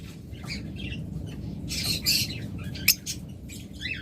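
A pair of albino red-eye pet birds for sale squawks in a busy bird shop, with sharp shrill calls over a steady background din and one loud burst standing out.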